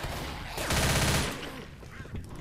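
Gunfire rings out in the Left 4 Dead zombie game as a rapid automatic burst of shots is fired from an elevated spot. Sparse game sounds surround it.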